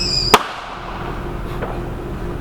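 A single sharp firecracker bang cracks outdoors, loud and close, followed by a fainter pop and low background noise.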